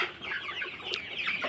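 Sonali chickens on a poultry farm cluck in short, close overlapping calls, a busy flock chattering steadily with no talk over it.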